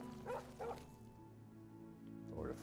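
A dog in a game of Oblivion gives a few short, near barks, two quick woofs close together, then a pause and another bark.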